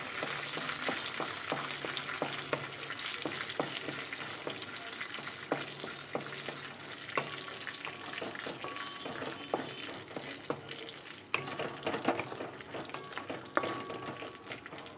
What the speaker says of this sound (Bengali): এবার কাজুগুলোকে একটু আমি ভেজে নিই